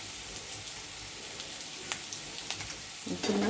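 Boiled potato pieces sauté in a pan, giving a steady close sizzle with light crackles and a stirring scrape toward the end.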